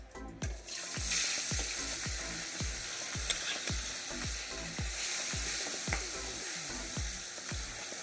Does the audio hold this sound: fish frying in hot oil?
yes